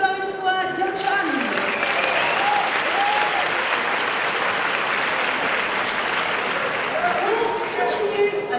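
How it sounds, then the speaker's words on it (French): Applause fills a convention hall for a cosplayer at a costume contest, steady and loud for several seconds, with a host speaking at the start and end. "on l'applaudit encore une fois"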